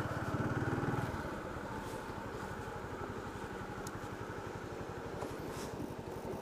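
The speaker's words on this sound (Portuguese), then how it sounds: "Vamos parar a moto aqui." A motorcycle slows and comes to a stop on arrival in Alfenas, Brazil: the engine note drops from a louder rev to a steady low idle that keeps running close by, with no talk.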